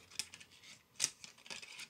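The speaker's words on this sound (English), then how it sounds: "I'm cutting it down with some scissors." Hasegawa tri-tool scissors cut a plastic miniatures container in quiet, close snips: a few sharp clicks and crisp crunches spaced unevenly over two seconds.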